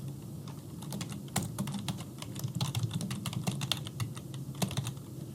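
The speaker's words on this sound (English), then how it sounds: "You just type in the name." Keys clatter on a computer keyboard in quick irregular bursts of close, crisp taps with short pauses between them as a name is typed in.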